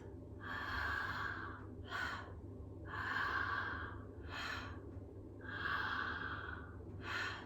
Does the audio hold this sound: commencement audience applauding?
no